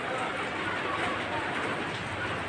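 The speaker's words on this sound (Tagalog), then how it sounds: "Napakalakas ang ulan." Heavy rain pours down in a steady, dense hiss that fills the whole stretch without a break, fairly close and even in loudness, with a hint of voices underneath.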